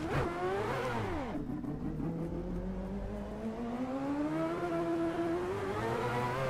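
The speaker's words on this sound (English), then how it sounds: "Let's try driving it with these tyres and see what it's like." Race car engine in the Assetto Corsa driving sim, revving steadily with rising and falling pitch through gear changes, loud and continuous with no talk.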